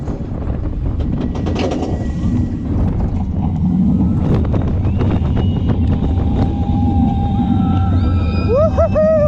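Millennium roller coaster ride near the back row at Fantasy Island, loud rushing wind buffeting the microphone with rattling track noise and creaks throughout.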